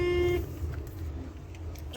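Heavy road traffic on a busy lane on the way to Kanyakumari, with a single sustained car horn blast up front, then a steady low rumble of engines continuing underneath.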